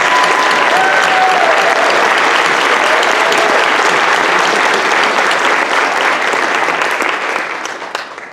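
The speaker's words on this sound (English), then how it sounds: "let's finish with a round of applause for all of the graduates" Sustained, loud audience applause for graduates at a university English department convocation, a dense even roar of clapping throughout that tapers off slightly at the end.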